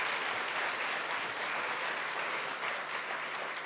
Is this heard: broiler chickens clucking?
no